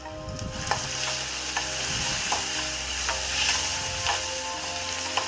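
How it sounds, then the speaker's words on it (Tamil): Green chillies and fennel powder sauté in hot oil with a steady sizzle, broken by light spoon scrapes and taps against the pan, at moderate level close by with no talk. "நல்ல பொன்னிறமாக வதக்கணும்."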